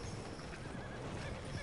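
Horse in the Red Dead Redemption 2 game, a faint neigh and a few hoof clops heard briefly in a noisy game scene, with no talk.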